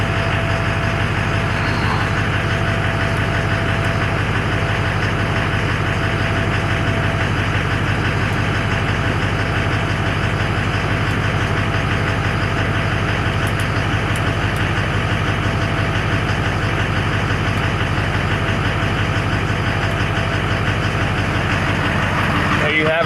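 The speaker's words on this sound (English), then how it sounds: "We're gonna let it idle for a little bit, let it work itself out" Steady, loud diesel idle from a Duramax LBZ engine just after injector installation, a continuous low rumble with a constant hum that runs unbroken and close for the whole stretch, with no talk.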